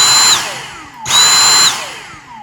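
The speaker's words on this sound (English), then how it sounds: "in the event that your vacuum cleaner is pulsating like this" Dyson V6 cordless vacuum cleaner pulsating: a high whining motor surges up, then drops away with a falling pitch, twice in quick succession, close and loud with no voices.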